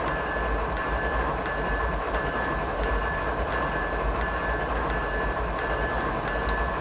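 A Norfolk Southern coal train rolls through the Coal District in Train Simulator 2016, with a constant loud low rumble of wheels and wagons and a faint steady clatter, unbroken for the whole stretch.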